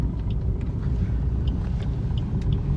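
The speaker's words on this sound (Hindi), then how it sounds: "देखिए कार की स्पीड इंक्रीज होना शुरू हो गई।" Car accelerating in third gear on a highway, a steady low engine rumble with road noise from inside the cabin, close and continuous, with no talking.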